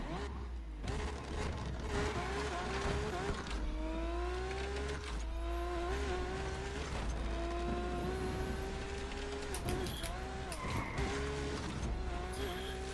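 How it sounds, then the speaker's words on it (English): A race car engine in Need for Speed revs and whines steadily, rising in pitch through gear changes, with tire squeal and skidding and occasional impacts, while someone talks over it. "This car sounds amazing."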